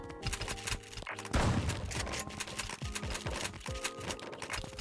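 Rapid bursts of gunfire from the video game 1v1.lol rattle off in quick, overlapping volleys, dense and close, with a brief louder blast midway and no voices.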